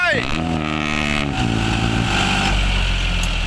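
A heavy tractor engine labors loudly and continuously while stuck in mud, its pitch dropping and rising as it strains under load, with a voice speaking over it.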